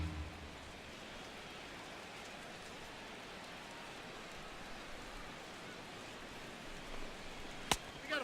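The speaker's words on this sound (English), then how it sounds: "The rain, as we've mentioned, coming down fairly steadily here at game time." Steady rain falls during a Toronto Blue Jays vs Cleveland Indians baseball game, a soft, even hiss that holds throughout at fairly low level, with a sharp crack near the end.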